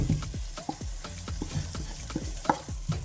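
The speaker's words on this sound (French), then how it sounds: "On mélange tout ça." A spoon stirs fish court-bouillon with green onion in a pan, a series of distinct scraping and clinking strokes at an uneven rhythm over a faint sizzle, close and fairly loud.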